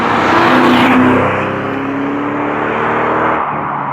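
An MG ZT 260 fitted with a V8 Mustang engine drives along with a loud, deep, throaty drone. The engine note swells slightly early on, then holds steady from inside the car.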